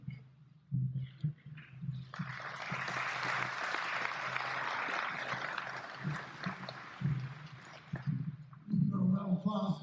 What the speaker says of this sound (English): A round of applause as Scott's family, Chris's family now comes